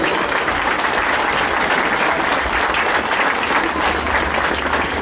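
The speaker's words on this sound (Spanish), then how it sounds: "Fuerte el aplauso." Loud, continuous applause from a large crowd at an award ceremony honoring local figures in Patzún, a dense roar of clapping filling the whole stretch without a break.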